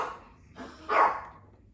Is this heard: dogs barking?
yes